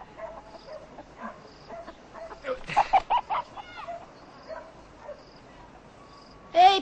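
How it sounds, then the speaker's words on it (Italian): Hens in a farmyard clucking and squawking in scattered bursts, moderately close, with crickets chirring faintly beneath and a louder squawk near the end. "Odio le galline."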